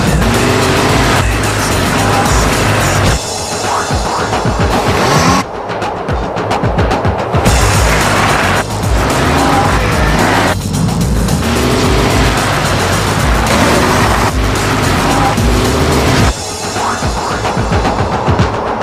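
A car driven hard at speed roars loudly throughout, its engine rising and falling through repeated gear changes with brief lifts off the throttle, close and dominant with no talking.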